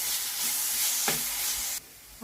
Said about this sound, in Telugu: ఇది పచ్చివాసన పోయేదాకా వేయించుకున్నాం.